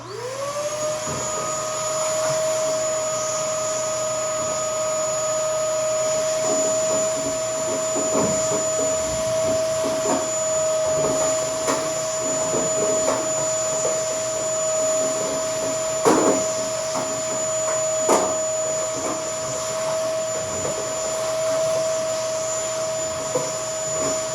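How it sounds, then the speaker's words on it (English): A vacuum cleaner starts up and runs with a steady high whine, sucking debris out of a rear-engine dragster's engine, with intermittent rattles and clatters as bits are pulled into the nozzle, close and continuous throughout. "rather than sit in this, I'll vacuum it up quick."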